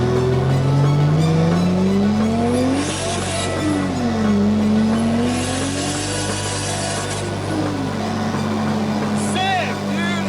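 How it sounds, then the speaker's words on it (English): A 2JZ-engined Nissan S13 pulls away at full throttle, its loud engine note climbing steadily in pitch, dipping briefly at a shift, then rising again close to the microphone, with excited voices over the roar. "That was the first time I've ever full throttled my car"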